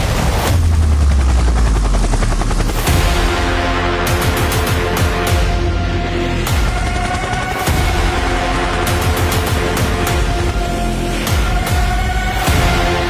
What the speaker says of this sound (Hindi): इस हैरान कुन ताकतवर हेलीकॉप्टर को चीन की चिंगाई एयरक्राफ्ट इंडस्ट्रीज कॉर्पोरेशन ने बनाया है।